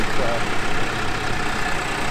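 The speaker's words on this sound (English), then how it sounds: "All right, here's the infamous tractor." Tractor engine working to move a fifth wheel RV, a steady loud rumbling drone with broadband noise, close and unbroken for the whole moment, with a brief spoken word over it.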